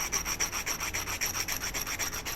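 A flintknapped Burlington chert Hardin point is being trimmed up with rhythmic abrading strokes, a steady scratchy rubbing repeated at an even pace up close, with no talk.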